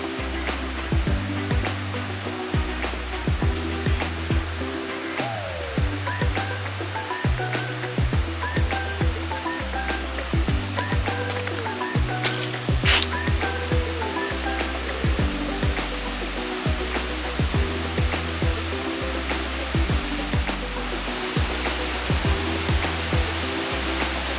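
Muak Lek waterfall in Saraburi, Thailand, rushing steadily, a dense continuous roar of falling water with dense clicks and tonal layers running through the whole stretch, no voices over it.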